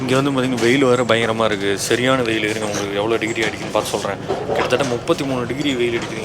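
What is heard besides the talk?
No everyday noise stands out behind the speech.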